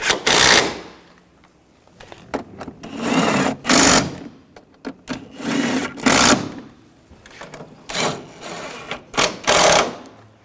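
Valve cover bolts being run down with a power tool on a 2006-2010 BMW 550i 4.8L V8: repeated loud whirring bursts of a second or so, separated by short pauses and softer clicks, close by.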